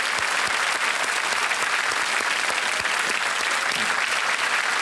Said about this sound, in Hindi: एक बार तालियां बज जाएं